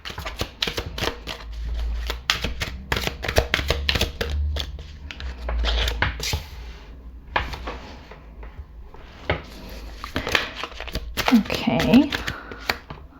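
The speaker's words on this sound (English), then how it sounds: "so I'll try and see how we can shuffle them" A deck of tarot cards is shuffled by hand in repeated bursts of riffling and soft slapping, close by, with a person talking in between.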